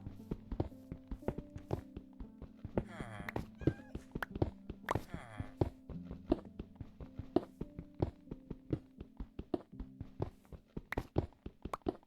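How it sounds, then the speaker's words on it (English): A cat meows inside a Minecraft game, its cries rising among steady block-breaking thunks and footsteps, while someone talks over the game sounds throughout. "What's this cat doing in here?"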